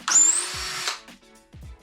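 A power drill running in reverse to back a screw out of a board: one loud whirring burst of just under a second, then a few faint knocks and handling sounds.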